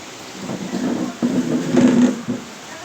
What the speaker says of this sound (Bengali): কত সুন্দর বৃষ্টি প্রচুর বৃষ্টি হইতেছে